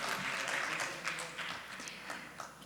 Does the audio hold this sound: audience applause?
yes